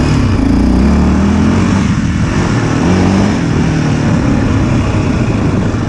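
A Yamaha Raptor 700R ATV runs on a trail, its engine droning loud and close with a steady, rough tone and slight swells in revs throughout.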